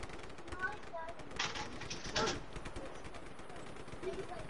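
Gunfire in a video game: a couple of short, sharp bursts over a dense, busy game soundscape, mixed in with a voice talking.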